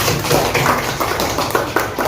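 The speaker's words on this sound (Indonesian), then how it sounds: "tepuk tangan untuk kelompok rambutan" Pupils in a primary school classroom applaud the rambutan group, a busy patter of many clapping hands with uneven bursts and no talk.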